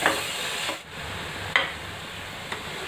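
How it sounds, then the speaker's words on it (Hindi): Onions and masala sauté in a pan with a soft, steady sizzle, interrupted by a few scraping stirs of a spoon at intervals, fairly quiet and close, no talking. "मसाला डालने के बाद प्याज को 1 मिनट के लिए और भून लेंगे।"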